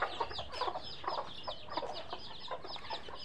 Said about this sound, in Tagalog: Ito na lang ang libangan natin, pakain ng mga manok.